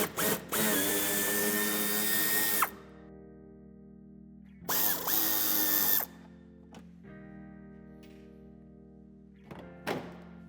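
Cordless power tool driving out bumper screws in the wheel arch of a BMW 3 Series Touring F31, three short whirring bursts separated by pauses, close and loud with a steady motor tone.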